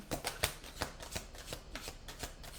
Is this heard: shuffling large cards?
yes